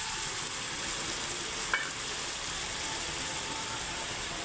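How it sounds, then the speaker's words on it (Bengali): Garlic and spices sizzle steadily in a pan for a rohu fish curry with potato and cauliflower, a constant close frying hiss with a brief clink partway through and no talk. "এখন আমি একটু জল দিয়ে দিচ্ছি, আর জল দিয়ে এখন আমি কষতে থাকবো"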